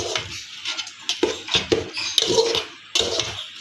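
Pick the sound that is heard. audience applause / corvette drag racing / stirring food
stirring food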